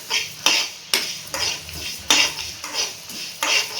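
Whole spices such as cardamom, cloves, star anise, cinnamon and cumin dry roasting in a pan, with a spoon scraping and clinking against the metal in repeated strokes about every half second, close and clear.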